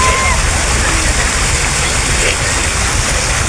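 Water flowing in a park near a church, a steady broadband rush of moderate loudness that holds unchanged throughout, with no voices.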